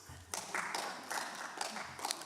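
A small group of finalists at an environmental stewardship prize event claps, sparse, uneven hand claps with distinct individual bursts, fairly quiet and close.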